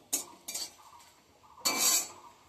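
A spoon stirs jaggery in a pan for a jujube pickle with dried red chillies, making a few brief, close scraping clinks against the metal with quiet gaps between them and no talking.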